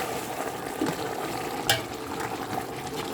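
Tomato sauce mixture for beef pochero being stirred in a pot, a steady soft bubbling, sizzling wash with a faint scrape of the spoon partway through.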